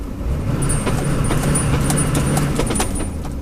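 Truck engine surging after the clutch is let out too fast, a loud, steady low rumble close up with faint metallic rattles and jingles over it, no talk.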